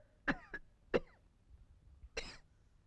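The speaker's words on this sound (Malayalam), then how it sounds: "നിന്റെ ചുമയൊന്ന് നിർത്ത്" A man coughs in short, dry bursts: two quick coughs, another a moment later, then a final harsher one after a pause, close and otherwise quiet.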